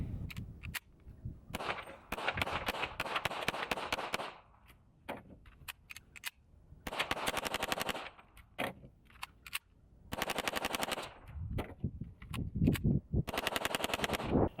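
Hi-Point JCP .40 pistol fired repeatedly in rapid strings of sharp, loud shots, with brief pauses between bursts, close by and without talk.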